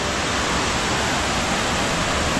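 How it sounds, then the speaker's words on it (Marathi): Steady, loud rush of falling water at the Dhutpapeshwar temple waterfall, a dense continuous roar filling the whole clip with no voices. "तर मला वॉटरफॉल दाखवते मी."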